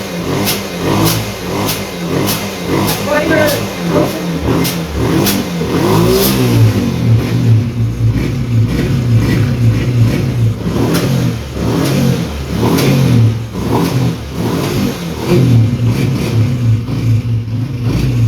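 A motorcycle engine revs repeatedly through its exhaust silencer after repair, loud and close, rising and falling in throaty bursts between idling stretches.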